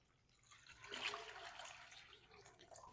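Water pours into a bowl of whisked yogurt for lassi, a soft liquid splash that swells after a quiet start and then runs steadily, faint and close.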